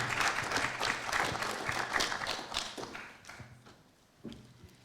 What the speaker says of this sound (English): Can we please give a round of applause to the convener and the speakers of this morning?